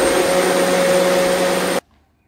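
A cheap electric juicer-grinder runs at a steady, loud motor whine with a constant tonal hum, then cuts off abruptly near the end, leaving near silence.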